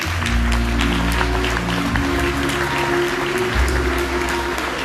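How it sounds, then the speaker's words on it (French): A festival audience applauds at an evening tribute concert honoring a singer, steady sustained clapping filling the hall, fairly close and loud, with a low hum beneath. "Sous vos applaudissements."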